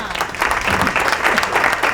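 A studio audience at a Ramadan TV quiz show claps steadily, dense and lively applause for a couple of seconds.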